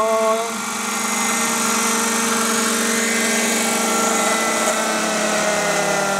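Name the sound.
Bell 222 helicopter flying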